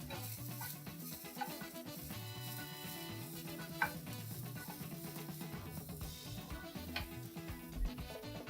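Broccoli hitting hot garlic in a pan, with a steady loud sizzle and frying crackle throughout, punctuated by stirring scrapes and occasional clinks of a utensil against the pan.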